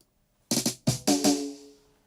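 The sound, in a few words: dry drum roll without reverb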